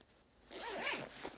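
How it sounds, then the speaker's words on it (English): A zipper on a Peak Design Travel Line packing cube with mesh lining is drawn closed around the cube, giving one continuous close rasping pull of about a second that rises and falls in pitch, with no talking. "just zip it back all around"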